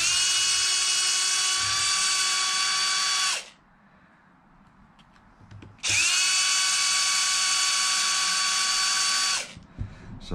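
A power driver spins out bolts on an Arrma Limitless RC car, two long, loud whining bursts of steady motor pitch separated by a pause with faint handling noise, ending with a brief tap.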